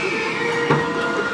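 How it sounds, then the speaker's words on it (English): The Scenic World railway in the Blue Mountains rumbling and rattling down its 52-degree incline, a steady close roar of the train carriage with faint squealing throughout. "World's Steepest Railway, here we go."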